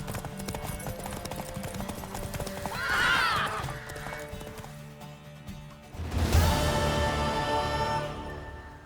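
A horse in The Witcher 3 gallops with steady clip-clopping hooves and lets out two loud whinnies, close and prominent over game music.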